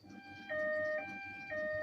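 An ambulance siren wails in two-tone alternation, switching pitch about every half second, loud and steady with no talk over it.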